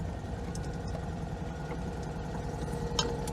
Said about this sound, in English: There we go, leave her running for a bit